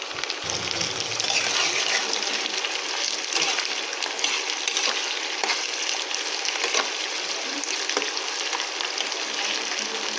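Onions frying steadily in a pan for rui korma, a Bengali fish curry, giving a continuous, even sizzle that runs unbroken throughout.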